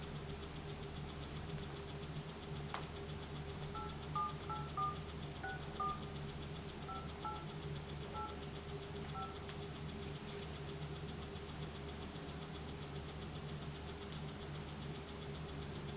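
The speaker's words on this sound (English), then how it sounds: "I guess I'll call her and see what happens." A phone keypad beeps out a quick series of dialing tones while calling a landlord, faint and distinct over a low steady background hum in a quiet room.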